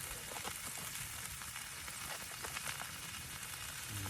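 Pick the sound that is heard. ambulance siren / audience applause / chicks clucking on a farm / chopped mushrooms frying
chopped mushrooms frying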